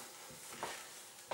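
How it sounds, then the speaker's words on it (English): Onions frying in about two tablespoons of oil for ginger pepper chicken give a short, quiet sizzle with a faint stir, heard alone without talk. "And then we start frying."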